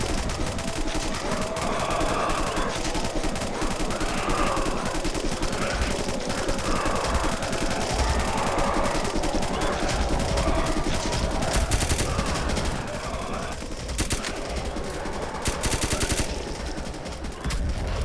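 Heavy automatic gunfire fills a defense mission in the video game Dread Dawn, a dense, loud, unbroken barrage of rapid shots lasting the whole stretch with no voices over it.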